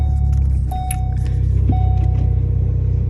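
A manual car pulls away after the clutch is let in and gas applied: a loud, close engine rumble that holds steady, with a couple of brief tonal whines and faint clicks inside the cabin.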